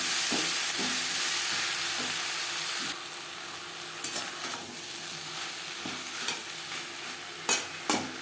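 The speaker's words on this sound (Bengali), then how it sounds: "পেঁয়াজের সাথে তিন চার মিনিট মিডিয়াম ফ্লেমে ধুনুন ভেজে নেওয়ার পর" Sponge gourd and onions fry in a hot pan over a medium flame, a steady sizzle running throughout, with sharp scrapes and clicks of a spatula stirring at intervals toward the end.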